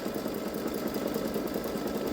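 A Baby Lock Solaris embroidery machine runs steadily while it stitches out a word on a T-shirt, giving a continuous mechanical hum and rapid needle rattle with no pauses.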